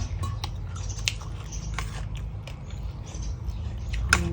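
Crunchy chewing of a spicy Thai stink bean and fresh shrimp salad, with close, irregular bites and crackling crunches over a low steady background hum, no talking.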